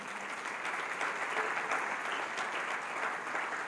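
A church congregation applauds during a sermon, a steady wash of clapping held at an even level, somewhat distant and without speech.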